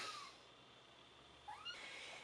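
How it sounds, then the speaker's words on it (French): A cat in an office gives two faint, drawn-out meows, one at the start and one about a second later, over a quiet room with no one speaking. "Pardonnez mon chat, hein, il me suit partout dans le bureau."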